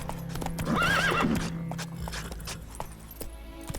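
Roach, the horse in The Witcher 3: Wild Hunt video game, gives one loud close whinny over steady galloping hoofbeats, with the hooves continuing alone afterward.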